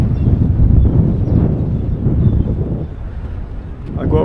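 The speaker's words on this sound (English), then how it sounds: "the wind is actually kicking in now" Wind buffets the microphone outdoors at the Chiang Kai-shek Memorial in Taipei, Taiwan, a loud, continuous low rumble that surges and eases throughout.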